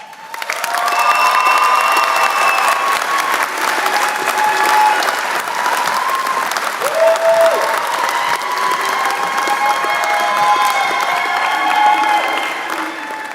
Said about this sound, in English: But you don't have to stop clapping